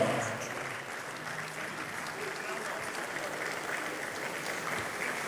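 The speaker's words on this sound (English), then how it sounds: "Can we give him a big round of applause as he makes his way up?" Steady, even applause rises from a summit audience as a guest walks up to the stage, a dense, continuous wash of clapping held at an even level throughout.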